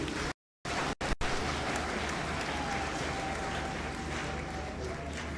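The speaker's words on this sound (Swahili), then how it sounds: "Tumpigie makofi" A crowd applauds at a memorial gathering for a cardinal, steady dense clapping after a brief dropout at the start, moderately far and even.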